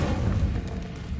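A fire spell bursts in a Hogwarts wizarding video game, giving a dense low booming whoosh that swells and then fades over about a second.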